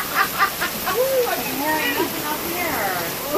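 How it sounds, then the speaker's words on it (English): Heavy rain pours steadily in a dark barn on a June trip in Georgia, a dense hissing wash heard up close while a voice talks over it. "the rain's so hard that the motion detector's going off on the light"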